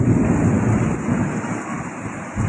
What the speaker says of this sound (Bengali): আমরা দেখতে পাচ্ছি মোটামুটি বৃষ্টি একটু কমে আসছে। আলহামদুলিল্লাহ, বৃষ্টি এবং বাতাস দুটি কিন্তু কমতেছে।